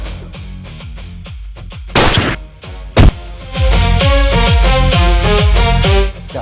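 Two sharp gunshot-like bangs ring out a second apart amid rhythmic background music.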